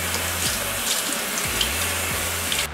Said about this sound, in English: I go through each individual leaf and I rinse them off